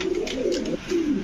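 Black copper Archangel pigeons coo at close range in a fancy pigeon farm, giving a few soft, rolling throaty coos with a brief pause between them.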